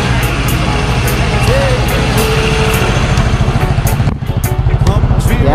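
A Yamaha Nmax scooter fitted with a 66mm big bore block runs loud and close in a workshop, a steady idling engine rumble, with people talking over it.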